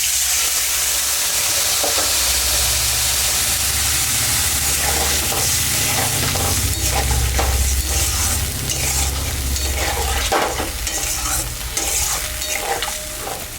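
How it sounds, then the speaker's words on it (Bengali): Paneer cubes go into a pan of frying potatoes, and a loud, continuous sizzle follows, with scraping and stirring knocks throughout and a low rumbling hum beneath. "আলুটা ভাজা হয়ে গেছে, আমি এখন পনিরটা দিয়ে দিই"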